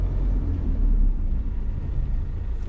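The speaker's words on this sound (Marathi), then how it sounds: "गाड्यांची आवाज गिवाज होत राहते" Vehicles pass on the road to Munnar through Annamalai Tiger Reserve, a steady low rumble of traffic with no speech.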